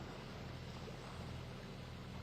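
A sailboat motors along under its engine with no wind, producing a faint, steady low drone blended with a broad hiss of water and air, continuous and even, with no voices.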